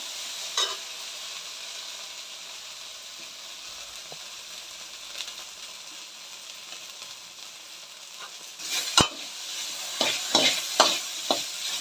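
Ivy gourd fries in a pan with a constant soft sizzle, while scraping stirs grow louder and more frequent toward the end.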